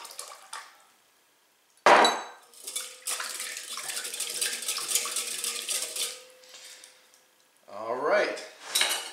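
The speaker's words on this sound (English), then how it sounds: "Bang around some pots and pans" Pots and pans clang and clatter in a home kitchen during challah baking, with a sharp metallic bang near the start, a long stretch of rattling and scraping, then a second burst of clanking near the end.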